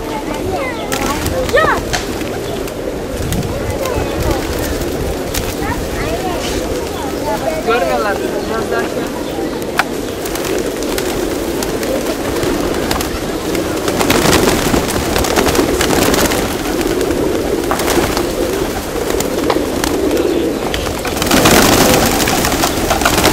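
Pigeons flap and scuffle in a flock, a dense, busy rustle of wings running throughout with bird calls mixed in, steady and fairly loud with bursts toward the end.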